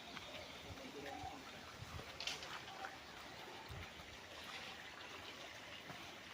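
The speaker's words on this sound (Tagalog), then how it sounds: "May dadaanan tayong maliit na sapa." A small stream trickles and babbles steadily through a farm lot in Liliw, Laguna, faint and continuous, with soft splashes and a hint of distant voices in the background.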